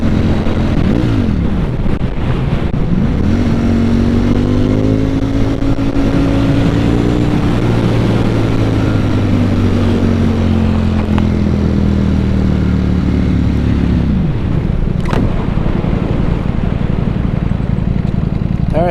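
A Ducati V4 Panigale motorcycle roars loudly while being ridden, its engine pitch rising and falling through gear changes over heavy wind rush. A rider's voice can be heard partway through.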